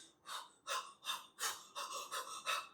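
Narrator's voice imitating plump soldiers panting as they run up, a series of about eight rhythmic, breathy gasps heard close and alone.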